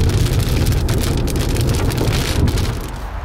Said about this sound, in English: It's actually raining out here